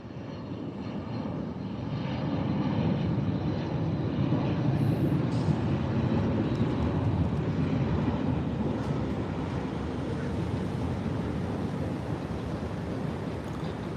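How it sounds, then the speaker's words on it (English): A Boeing 757 at Tampa airport fills the air with a broad, rushing jet roar that builds and holds steady, with no voices. "What a plane, the 757."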